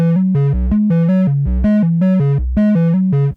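A modular synth sequence runs through an Earthquaker Devices Wave Transformer pedal, playing a loud, steady pattern of buzzy, distorted synth notes in a rhythmic stepped melody with occasional low bass hits.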